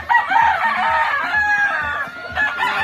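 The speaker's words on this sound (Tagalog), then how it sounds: "Nilabas niya na yung mga nasa kulungan na manok." Chickens turned out of their cages in a backyard farm cluck and squawk close by, with a rooster crowing through the continuous clucking over a few seconds.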